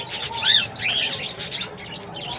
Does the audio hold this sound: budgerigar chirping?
yes